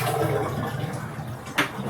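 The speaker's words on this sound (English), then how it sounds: "now we can dump out the water in the bottom here" Water poured out of the bottom of a Fluval G3 aquarium canister filter, a brief rushing, splashing gush into a sink or container, fairly close, with no one talking.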